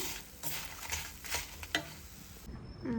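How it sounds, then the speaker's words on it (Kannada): Mutton and green chillies frying together in a pan for a spicy mutton dish, with steady sizzling broken by a few sharp scraping stirs of a spoon, close and fairly loud. "ಇವಾಗೆ ಹಾಕಿ ಎಲ್ಲ ಒಟ್ಟು ಮಿಕ್ಸ್ ಮಾಡಿ ಫ್ರೈ ಮಾಡ್ತಾ ಇದ್ದೀನಿ"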